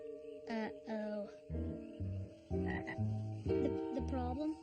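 A chorus of about two thousand cartoon frogs croaks in overlapping bursts, deep and higher-pitched calls alternating in quick, uneven succession at moderate volume.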